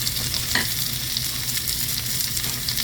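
Continuous loud sizzle of halved tomato sautéing in oil with mustard seeds for South Indian tamarind pepper rasam, with faint stirring and no talk.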